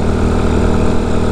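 An off-road vehicle engine with a modified exhaust runs loud and steady close to the microphone, a dense continuous drone with no talk over it.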